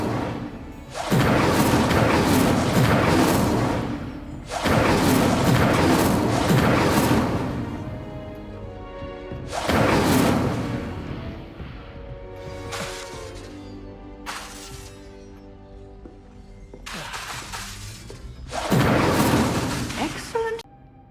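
Repeated fire-spell blasts in the video game Hogwarts Legacy, half a dozen loud, roaring bursts of a few seconds each separated by short pauses, with a musical game score beneath.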